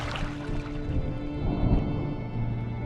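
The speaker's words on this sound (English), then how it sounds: "Was that thunder? Still distant." Distant thunder in the video game Draugen, heard from a rowing boat on the water: a low, soft rumble that swells briefly in the middle over steady ambient wash, with no talking.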